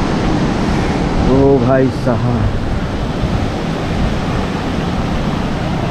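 The Shivnath River near Bhilai-Durg runs in flood, a loud, unbroken roar of rushing water filling the whole scene, with a man briefly calling out over it.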